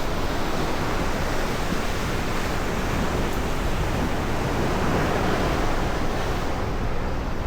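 Ocean waves roll onto the sand at Torohudan Beach near Yogyakarta, heard as a steady, loud, continuous wash of surf that never lets up, with no voices.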